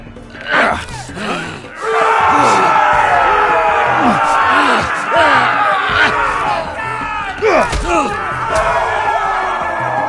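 Crowd in Telltale's Game of Thrones video game roaring and yelling loudly, with overlapping shouts, groans and cries that rise and fall in waves, starting softer and then swelling to a sustained clamor.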